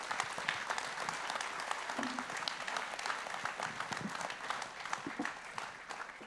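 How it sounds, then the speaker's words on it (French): Warm applause from a conference audience at a talk on AI and low-carbon transition, steady dense clapping filling the whole stretch at moderate distance with no break. "On peut les applaudir chaleureusement."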